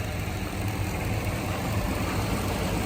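A Chevrolet S10 pickup engine idles while already hot, a steady low rumbling hum with no change in pace, close and even throughout, with no voices.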